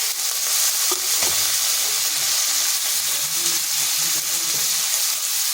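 Chopped tomato drops into a frying pan and sets off a loud, continuous hissing sizzle up close, with faint stirring knocks underneath.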